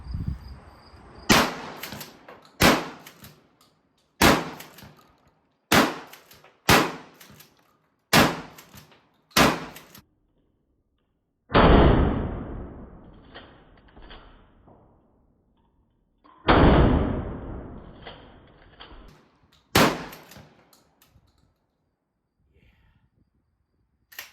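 Smith and Wesson 916A pump-action tactical shotgun firing mixed hand-built reloads: eight loud, sharp blasts, most in a quick string with pump-action racking between shots, two spaced out with long decaying echoes, then quiet.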